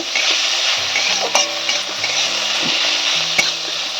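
Tomato and carrot fry in a pan with a steady close sizzle, while a spoon stirs and scrapes through it in short irregular strokes, with a couple of sharper clinks.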